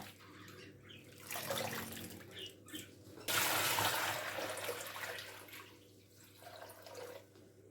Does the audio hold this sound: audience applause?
no